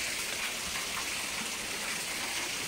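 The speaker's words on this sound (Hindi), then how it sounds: "झरना बहता हुआ क्या बात है।" An artificial waterfall at a Digambar Jain temple near Jaipur pours with a dense, even rush of water. The sound stays constant and fairly close throughout, with no voices.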